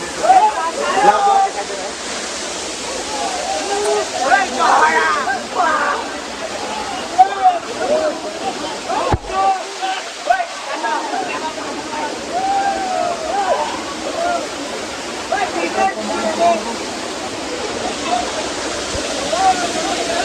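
Lihonjar waterfall in Karbi Anglong roars steadily nearby, with rushing water, splashing and gurgling, and voices talking over the constant noise.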